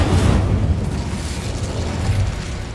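Incendio fire spell blast in the video game Hogwarts Legacy, a loud deep rumbling burst that roars and slowly fades, close and alone.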